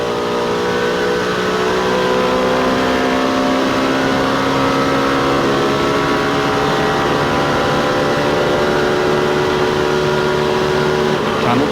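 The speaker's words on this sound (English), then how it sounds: "Let's listen to Mark Martin's car as he tries to make up on Jeff Gordon." Mark Martin's NASCAR race car at the 1998 Pennsylvania 500 drones at high speed with a steady, loud engine roar held throughout, no commentary over it.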